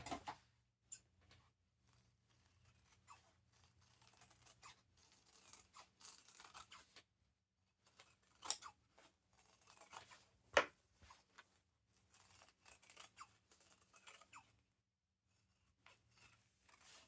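Scissors trimming excess ribbon for a peppermint bow, a few quiet snips and soft rustles of material, faint and close, with near-silent pauses between.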